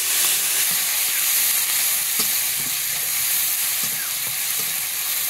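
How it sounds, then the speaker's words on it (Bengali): A cumin and onion paste sizzles loudly in hot oil with cumin seeds and bay leaves, giving a dense, constant hiss close by with a few faint stirring taps and no talk. "এইবার বেটে রাখা ওই জিরে আর পেঁয়াজ বাটাটা দিয়ে দিচ্ছি।"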